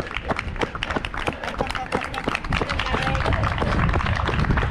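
A crowd claps at the finish line of a 20-mile race, scattered rapid applause and footsteps building in density toward the end, with a voice talking over it.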